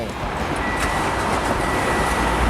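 A used 2016 Mitsubishi Pajero Sport 2.4 GT 4WD runs after a push-button start, a steady loud close engine drone with broadband noise throughout.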